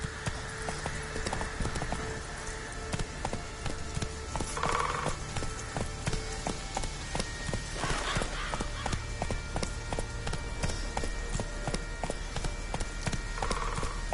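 Roach, a horse in a video game, gallops with steady clip-clop hoofbeats and an occasional whinny, set over a continuous bed of game music and ambience.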